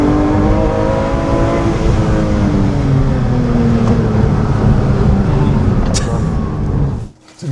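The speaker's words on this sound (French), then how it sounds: "Quand le moteur il se relance comme ça," A Porsche 911 S/T engine revs loud and close in a sustained, rising pull, its pitch climbing steadily for several seconds before it cuts off abruptly near the end.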